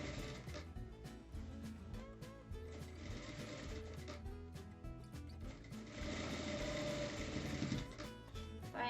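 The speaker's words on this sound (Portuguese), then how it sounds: "Então, eu vou passar uma costura em toda a volta, segurando essa faixa." Sewing machine stitching a seam all around a fabric drawstring bag, a steady whirring mechanical run with rapid needle ticks, close and continuous, speeding up slightly toward the end.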